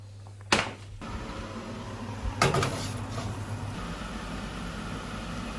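Seared lamb going into the oven: a sharp clunk of the oven door opening, then a second clatter of the tray sliding in and the door shutting, over a low steady hum, close by.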